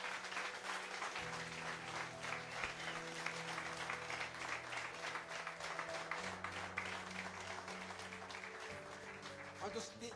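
A church congregation claps during a family service, a steady, distant wash of applause over sustained organ or keyboard tones, with voices mixed in.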